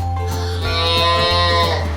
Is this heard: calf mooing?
yes